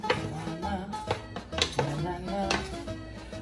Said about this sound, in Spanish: Y vamos a mezclar nuestra ensalada en el bol